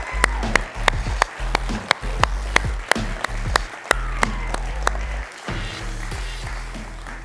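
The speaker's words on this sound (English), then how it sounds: "One more round of applause for all of the entrepreneurs we've seen on stage already." An audience at a pitch competition applauds the entrepreneurs on stage, a dense, sustained wash of clapping with sharp percussive hits punctuating it and a low, steady rumble underneath.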